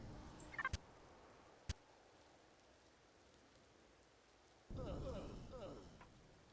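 Rain in the Empyrion Galactic Survival video game sweeps in abruptly partway through as a dense, steady hiss of drops that then eases slightly, following a quiet stretch broken by a couple of sharp clicks.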